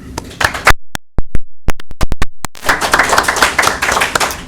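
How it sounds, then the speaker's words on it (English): A small class claps: scattered sharp individual claps ring out in a near-silent room, then many hands join in a brisk, uneven round of applause close by. "you guys you owe yourself a round of applause"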